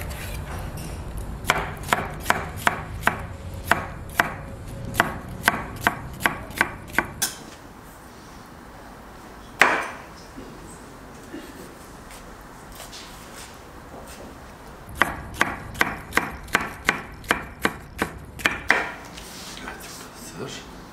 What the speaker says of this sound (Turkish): Biberlerini doğrayalım.